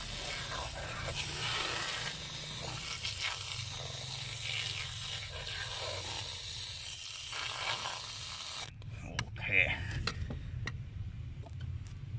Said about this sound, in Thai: ก็คงต้องใช้สเปรย์โฟมในการล้างนะครับ